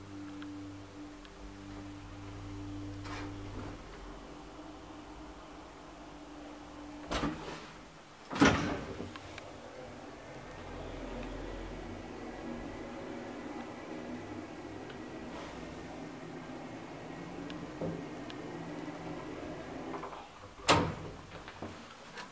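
A ride in a 1987 Valmet-Otis holeless hydraulic elevator with Deve hydraulics and no cab doors: a faint, steady mechanical hum runs throughout, broken by a few sharp clunks and knocks from the car.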